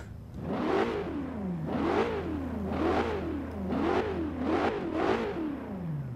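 An Aston Martin V8 Vantage V600 engine in Forza Horizon 3 revs up and drops back about six times in a steady rhythm, close and prominent, over a constant low drone.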